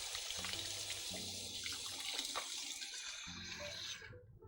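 Running tap water splashes steadily into a kitchen sink while something is rinsed under it, a close, continuous hiss with small shifts in the flow before it cuts off.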